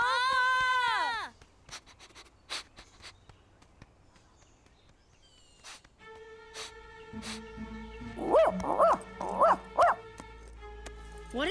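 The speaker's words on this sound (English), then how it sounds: "That's either a really big dog." A large dog barks in a cartoon about a horse ranch, with four loud, close barks near the end over music and other sounds, after a stretch of quieter noise.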